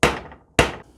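Two sharp hammer taps, close and loud, each ringing out briefly, as a rear shock bearing (Heim joint) is driven out of a KTM 690 Enduro motorcycle.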